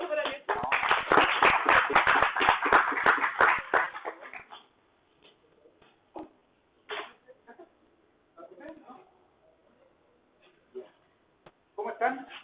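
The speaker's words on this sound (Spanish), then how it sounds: "Un aplauso para Joshua." An audience claps for a speaker at a talk in a loud burst of dense applause lasting about four seconds, then it cuts off and a few scattered claps and taps follow in the quiet.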